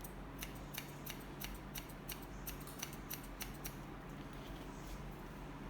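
Thinning scissors snip through hair during a short bob haircut, a steady series of crisp close-up cuts over a low background hum, with no talking.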